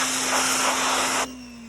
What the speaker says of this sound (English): this is kind of why we're pressure washing it